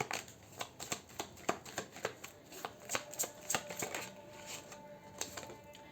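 A deck of tarot cards being shuffled by hand, with quick papery riffles and snaps in a steady rhythm of close, crisp bursts, no voice heard.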